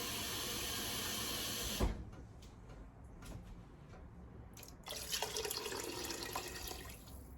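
Water runs from a kitchen tap in a steady stream while cooking, then cuts off with a soft clunk; faint drips and clatter follow before the flow resumes.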